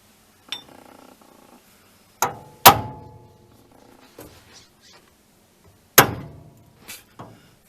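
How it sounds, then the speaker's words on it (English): Several sharp metallic strikes ring out at irregular intervals, each decaying with a brief clank, with quieter knocks and rattles between them. "We're going to keep playing with this thing, with this hammer."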